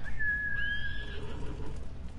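A single video game horse whinny, high and wavering then falling, heard clearly over a low steady background hum.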